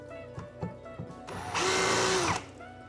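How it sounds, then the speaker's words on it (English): A power drill bores a pilot hole through a wall into the stud behind it while a garage door opener is being installed. A few light taps come first, then one loud, close whine lasts about a second. "then we'll just drill our pilot hole, all right, into the joist bar, the stud behind it"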